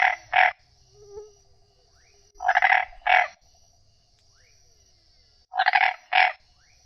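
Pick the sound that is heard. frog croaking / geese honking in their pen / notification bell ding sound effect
frog croaking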